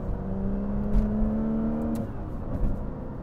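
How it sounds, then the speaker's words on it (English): Aston Martin Vanquish, a roughly 20-year-old car, accelerating with a steady engine drone and a rising tone that drops around a gear change, continuous and fairly close with no talk. "All right, let's accelerate and shift."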